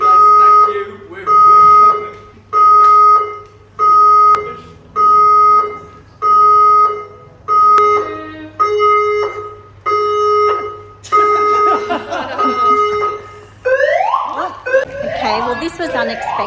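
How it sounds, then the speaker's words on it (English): Building fire alarm going off during a live broadcast, a loud two-tone electronic beeping repeating in regular pulses about every second and a half, with voices and commotion rising over it toward the end. "Last couple of minutes of our show, on air, live on air, fire alarm starts going off."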